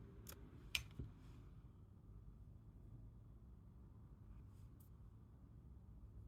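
Scissors snip crochet thread with two quick, faint close clicks near the start, then a low quiet room hum.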